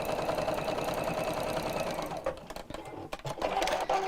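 A domestic sewing machine, a pricey model around £1,600, stitches steadily at close range, its fast even whirr running almost continuously before breaking into short stop-start bursts.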